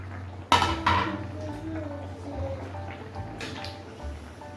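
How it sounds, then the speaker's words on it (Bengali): Bata fish curry with potato and ridge gourd is stirred in a metal pot: two sharp clanks of spoon against pot open the sequence, then softer scraping and wet stirring continue quietly without talk. "আমি একটু নাড়িয়ে নিই, নাড়িয়ে ঢেকে দেবো।"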